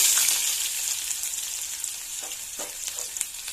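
Onions go into hot oil with mustard seeds and cumin for a cabbage stir-fry, giving a close, steady frying sizzle with a few stirring scrapes toward the end.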